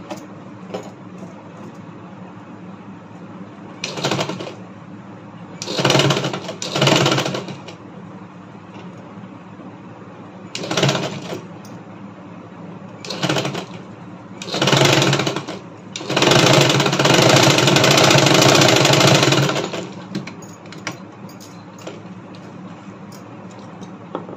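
A sewing machine stitches fabric while S-piping is attached to a double katori blouse, running in several short bursts and then one longer run over a steady low hum, fairly close and with no talk.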